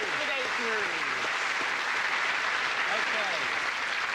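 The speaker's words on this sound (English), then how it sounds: "let's have a round of applause for Paul Routledge" A studio audience applauds a departing guest, Paul Routledge, on a British comedy panel show, with sustained even clapping throughout and a voice talking over it.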